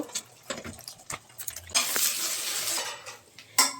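Egg being scrambled in oil in a kadai, with a spatula scraping and tapping against the metal in irregular knocks and a short burst of sizzling in between; close and fairly quiet, with no talk.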